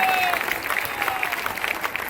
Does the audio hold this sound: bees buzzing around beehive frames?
no